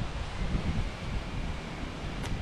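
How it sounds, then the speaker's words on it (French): Steady wind rushes and buffets the microphone outdoors by a boat, a continuous low roar with no voices. "il y a un peu de vent"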